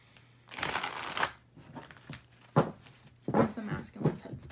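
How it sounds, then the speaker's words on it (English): Tarot cards shuffled in bursts of papery riffling and rustling, with a longer run early on and shorter flurries later, close and fairly quiet. "I'm going to actually shuffle like this."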